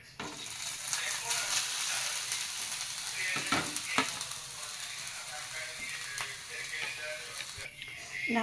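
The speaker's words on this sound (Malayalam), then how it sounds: "ലേശം നെയ്യ് ഒഴിച്ചു, അതിലോട്ട് തേങ്ങ ഇട്ട് കൊടുക്കാം" Grated coconut sizzles in ghee in a pan, with a steady close frying hiss and occasional scraping stirs throughout.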